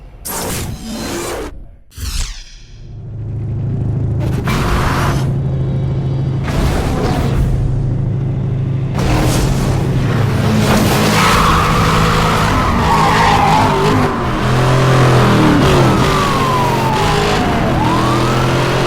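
Racing in Need for Speed Hot Pursuit Remastered, a Dodge Viper's engine roars loudly and steadily with tyre skids and squeals, while police sirens wail through the chase; no talk.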